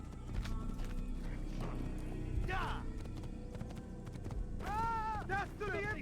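Horse hooves clip-clopping at a run in an open-world video game, with a couple of sharp neighs and whinnies cutting through, while a person talks over the steady hoofbeats.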